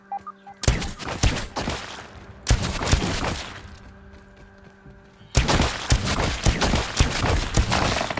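Rapid bursts of explosive blasts from spam-fired attacks in the video game Grounded, in three dense volleys of sharp cracks and thuds separated by quieter gaps filled with a humming game background.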